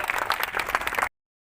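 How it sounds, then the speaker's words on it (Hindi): A crowd claps for police officers in a short, lively burst of applause with many hands that stops abruptly after about a second. "इन कोरोना योद्धाओं के लिए एक बार जोरदार तालियां हम बजा दें।"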